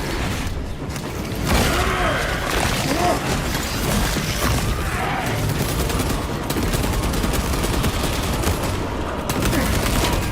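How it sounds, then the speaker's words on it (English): Cannon fire from the VR game Moss: The Forgotten Relic: a loud, dense barrage of booming, crackling shots and mechanical clatter that runs continuously and close for the whole stretch. "Synchronization complete. Cannon ready."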